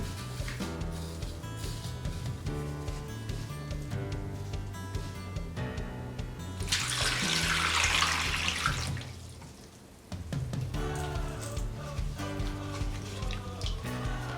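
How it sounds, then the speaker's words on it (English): A sweet potato is scrubbed with a teaspoon of salt under a running tap, the water rushing in a loud steady burst of a few seconds over background music. "I'm going to make sure my sweet potato is clean. So I'm going to use 1 teaspoon of salt to wash it"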